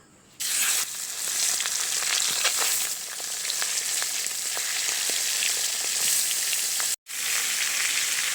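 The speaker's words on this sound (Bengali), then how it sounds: "ওদের জন্য একটু টিফিন ভেজে নিলাম অল্প করে" Snacks fry in hot oil in a pan, making a loud, steady, crackling sizzle up close that cuts out briefly once near the end before resuming.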